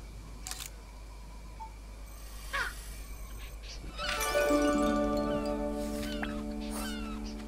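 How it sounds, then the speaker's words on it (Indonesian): A Spanish imperial eagle calls in the wildlife game Alba with a loud, harsh, strongly harmonic cry that rings on for a few seconds. Earlier, faint camera-shutter clicks and small bird sounds sit over a low steady hum. "Oh, elang kekaisaran Spanyol namanya."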